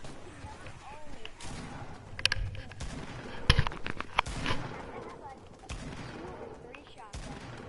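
Shotgun blasts in Fortnite: a few sharp, loud bangs spaced unevenly among busier game noise and other gunfire, with voice chat running under and between the shots.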